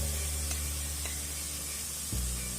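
Onions, black mushrooms and carrot sautéing in a pan for chicken spring rolls give a steady, soft sizzle and hiss. A low hum runs beneath it and there is a slight clink near the end.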